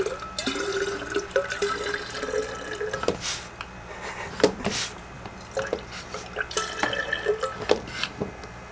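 Drinking water drips from a dispenser at a rainforest lodge, an irregular run of small close plinks and splashes over a soft, steady background.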